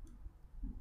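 A computer mouse gives a couple of faint, brief clicks in a quiet room.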